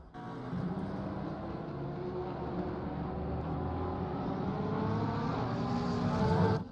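A GT3 race car engine in the ACC racing game drones loudly and steadily at Zolder, climbing slowly in pitch as it holds a sustained high-rev note with no talk over it.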